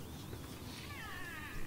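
A cat creature in the game Don't Starve Together gives a few soft, drawn-out meows over quiet game ambience, faint and wavering, with no talking.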